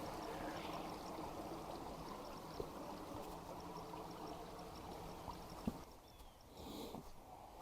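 A creek in a township park flowing steadily, a faint, continuous rushing and trickling of water with a couple of small knocks, heard from the bank.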